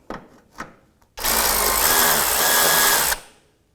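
After a couple of faint clicks, a cordless power tool whirs steadily for about two seconds, close and loud, while backing out a 10mm bolt under a 2001-2007 Volvo V70.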